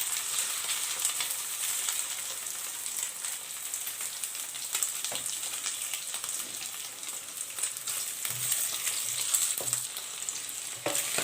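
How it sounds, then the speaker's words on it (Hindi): Marinated chicken fries in a hot pan with a steady, dense sizzle and crackle that runs the whole time, and occasional soft stirring knocks are heard close by. "अच्छे से गर्म हो जाए तो इसमें जो मैरिनेशन चिकन था इसको हम कुक कर लेंगे।"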